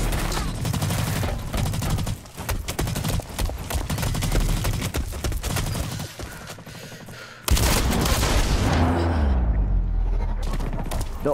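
Shotgun fire in Blacklight: Retribution booms in repeated heavy blasts amid dense, continuous battle noise, with a loud burst of gunfire and clatter after a brief lull.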